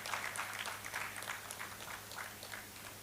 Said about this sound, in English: A round of applause for the wonderful,